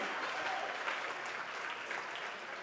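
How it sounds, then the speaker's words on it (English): A benefit gala audience claps for a donor, a soft, distant, even wash of applause heard from afar throughout the brief moment. "Let's clap for this amazing donor right there"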